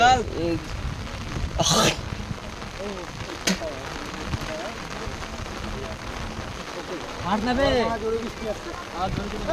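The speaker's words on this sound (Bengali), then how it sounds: "এই যে বৃষ্টি পড়ছে" Steady hiss of rain falling on surfaces in the Sundarbans forest, continuous and moderately loud, with people talking over it at times.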